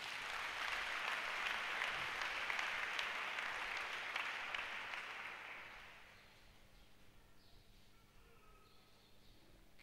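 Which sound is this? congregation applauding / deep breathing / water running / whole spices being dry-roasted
congregation applauding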